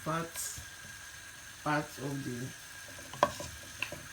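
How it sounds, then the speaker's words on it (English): Oxtail sizzling in a pot on a home stove, a steady low frying hiss running beneath a voice that talks throughout, with a few sharper spits and crackles near the end. "So I've got the oxtail on the stove"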